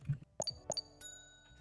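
A Roblox Anomic Family Feud answer bell rings out, two quick bright metallic dings in close succession with a light tonal ring lingering afterward, fairly faint and with no talk.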